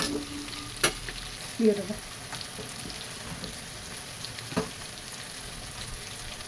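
Animal fat frying in oil over a high gas flame gives a steady, quiet sizzle with a few clinks, and a voice speaks briefly.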